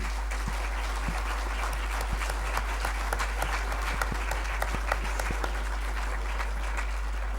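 An audience at a conference applauds after a talk, with steady, moderately loud clapping that continues evenly throughout over a low constant hum.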